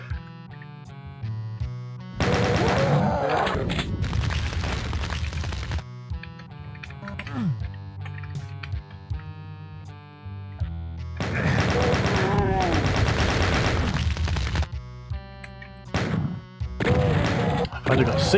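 Shotgun blasts and combat noise from the video game Doom come in loud bursts amid game music and effects, with gaps of quieter sound between them.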